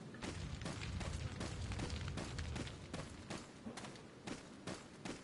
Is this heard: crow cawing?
no